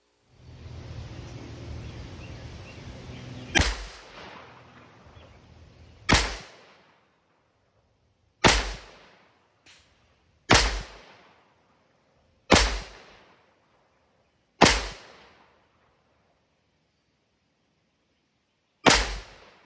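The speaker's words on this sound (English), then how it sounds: "from 15 yards it's going to be once around the cylinder from that distance, shooting double action" A Smith & Wesson 686+ Mountain Gun revolver fired double action at a 15-yard range: six sharp, loud shots a couple of seconds apart, each with a short ringing tail, with a final shot after a longer pause.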